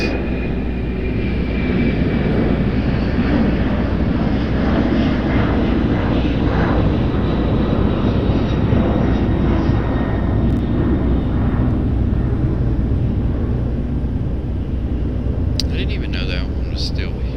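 A UPS cargo plane at Raleigh-Durham airport roars in a loud, steady drone of engine noise that lasts the whole clip, with people talking faintly beneath it.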